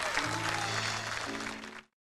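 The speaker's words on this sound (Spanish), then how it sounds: "Le damos un gran, gran, gran aplauso a nuestros participantes, a Bernie y a John." A studio audience applauds talent show contestants, a dense spread of clapping with a sustained musical tone underneath that cuts off abruptly after under two seconds.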